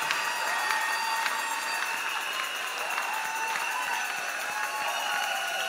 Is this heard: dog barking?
no